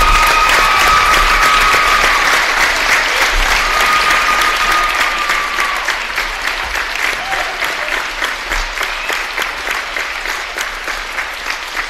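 A large crowd at a high school basketball homecoming night applauds loudly and steadily, the clapping gradually thinning and fading toward the end, with a few voices briefly audible early on.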